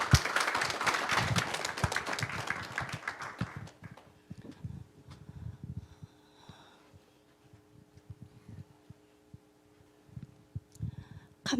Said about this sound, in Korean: 어느 때보다도 힘찬 박수 한번 부탁드리겠습니다